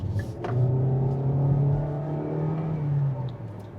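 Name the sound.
naturally aspirated car engine accelerating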